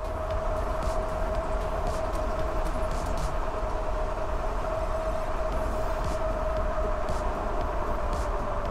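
Actbest Knight folding eBike coasting fast down a steep hill at about 40 mph, with steady broadband wind roar and rolling rumble that stays loud and constant throughout, no voices.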